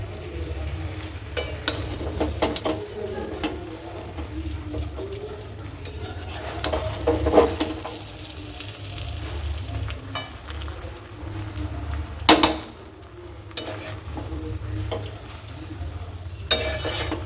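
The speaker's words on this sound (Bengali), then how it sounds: "আর একটুখানি নাড়বো, ব্যাস হয়ে যাবে" Chicken pulao with ghee is stirred in a pan, giving a continuous low sizzle with repeated scraping and clinking of the spoon, a louder knock near the end.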